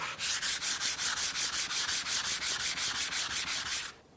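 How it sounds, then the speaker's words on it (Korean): Rhythmic back-and-forth rasping of a whetstone being flattened on sandpaper laid over a stone surface plate, about twenty even strokes, close and fairly loud, then stopping. "석정반에 올려놓고 사포 깔아놓고 갈아야 됩니다."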